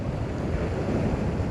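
Loud, steady roar of strong wind buffeting the microphone while waves wash against the shore, a continuous broadband rush with no voices.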